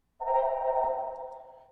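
Processed sample recorded in space, drenched in room reverb: a sustained, tonal drone with a stack of bright harmonics that swells in loud and slowly decays, heard alone without talk.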